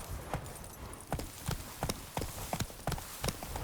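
Horse hooves clip-clop in The Witcher 3, an irregular run of sharp, fairly close knocks over a soft ambient bed, with no talking.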